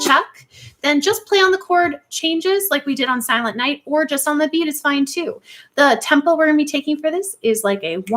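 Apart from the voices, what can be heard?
No everyday noise stands out behind the speech.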